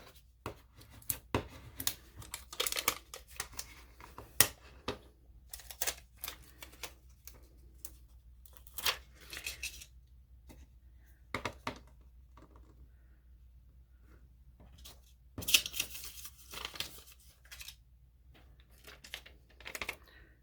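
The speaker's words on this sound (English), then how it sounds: "I'm going to use a piece of Tech Wrap's red grid transfer tape to apply him to my jar" Red grid transfer tape carrying a vinyl gnome decal is handled and pressed onto a glass jar, making scattered dry crinkles, taps and rubbing clicks in short bursts with quiet gaps between.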